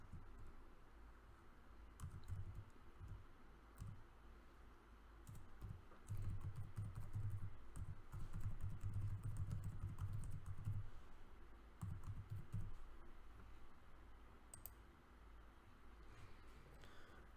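Someone types on a computer keyboard, rapid close clicks in bursts with short pauses, busiest in the middle stretch and quiet overall, with no talking.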